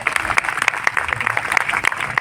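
Audience clapping at a college annual function and silver jubilee celebration, a steady burst of applause from a crowd in a hall, close and fairly loud for its short length.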